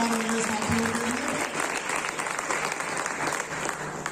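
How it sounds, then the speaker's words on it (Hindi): Applause from the audience at a Safe Shop Sunday seminar: dense, loud, sustained clapping from a crowd that fills the room and tapers slightly toward the end, with a voice briefly audible at the start. "एक जोरदार ताली हमारे नए साथियों के लिए"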